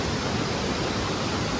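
A steady, close, full roar of a monsoon-swollen waterfall in Koshi Province, its falling water a dense unbroken rush with no talking.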